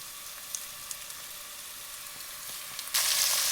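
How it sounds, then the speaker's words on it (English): Flour-dredged lamb searing in rosemary-infused oil for a lamb stew, with a steady close crackling sizzle that swells suddenly louder near the end as more meat hits the pan, plus a few light clicks. "now is the time to just take the flour drenched lamb and allow it to sear in as well"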